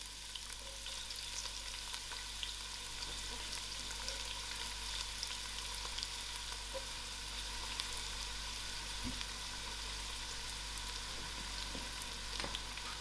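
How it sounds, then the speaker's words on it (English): Onions frying in oil for a chicken dhal gosht, giving a steady, even sizzle with faint crackles that carries on unbroken at a moderate level, with no one talking. "To my oil, I put my onions in."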